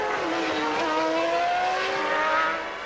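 A 1997 Formula 1 race with Villeneuve's Williams being chased by Panis: high, loud engine whine from the cars sweeping steadily upward in pitch as they accelerate past, close and sustained for about three seconds.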